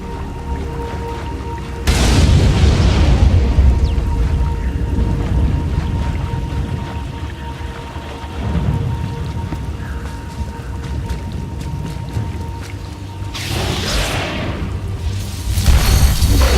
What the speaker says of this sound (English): Storms are fierce today.